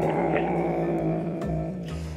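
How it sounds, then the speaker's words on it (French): A low, rumbling cat growl runs steadily throughout, close and fairly loud, with a few brief higher yips breaking through. "Mais elle grogne parce que c'est le nouveau chat"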